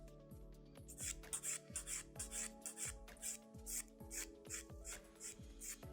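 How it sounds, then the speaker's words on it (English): Light nail filing, a fine rasping rub in short repeated strokes at close range with a steady rhythm, heard alone. "So this is very light filing."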